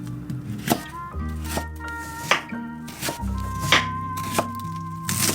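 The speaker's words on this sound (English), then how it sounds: "Slice radishes into thin stripes." A knife slices radishes into thin strips on a cutting board in a home Korean kitchen while making kimchi, giving a run of crisp, close chopping knocks in a steady rhythm over a faint tonal background.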